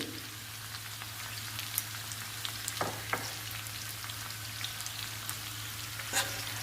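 Ivy gourd fry with onion, green chilli, salt, chilli powder and spices crackles softly in a pan while being stirred, with a few scraping clinks of the spoon.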